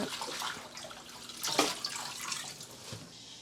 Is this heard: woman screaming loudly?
no